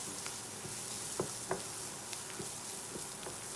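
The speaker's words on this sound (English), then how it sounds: "we'll just give a quick saute for a minute" Masala with coriander powder sautéing in a pan for a drumstick and potato curry, a steady soft sizzle punctuated by occasional light knocks of stirring.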